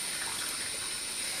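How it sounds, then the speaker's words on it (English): Hot water running and spattering steadily from a tap during a razor shave, a constant close hiss of flowing and dripping water with no pauses. "The water's dripping on me and it's hot."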